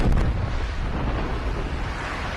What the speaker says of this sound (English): Exploding shuriken!